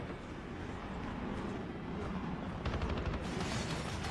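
Gunfire in the mobile shooter Call of Duty Mobile, battle royale mode, heard as a dense continuous rumble of distant shots, with a sharper burst of reports near the end.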